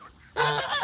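A goose gives a loud, close honk that lasts about half a second, rising sharply after a short quiet lead-in, in an outdoor enclosure near young ducklings.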